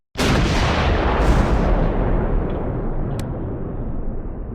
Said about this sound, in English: The mortar motor carriage opens a counterfire mission on the German mortar half-track.